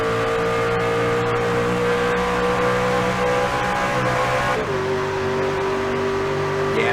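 Engines of American V8 stock cars from a sim racing video game roar steadily at Talladega Super Speedway, a sustained layered drone with a pitch shift partway through, with no talk over it.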